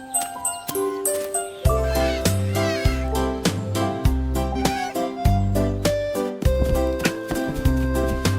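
Kittens meow repeatedly over a steady musical backing with plucked, rhythmic notes, the high cries rising above the tune at intervals.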